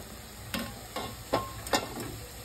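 Red chawli bhaji leafy greens cooking in a covered pan, giving a soft, low sizzle with a few faint stirring scrapes spaced about half a second apart.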